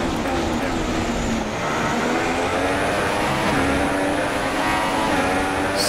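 Formula 1 race car from the F1 2016 racing game on PC, its engine droning steadily with rising and falling harmonic pitch as it drives, loud and continuous throughout.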